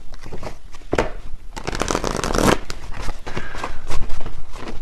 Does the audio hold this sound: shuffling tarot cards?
yes